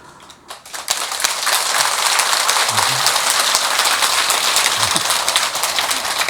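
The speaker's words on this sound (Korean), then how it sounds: "공연히 헛박수 치면 안 돼요." An audience at a Buddhist sermon breaks into sudden applause that swells within a second into loud, sustained, dense clapping lasting several seconds.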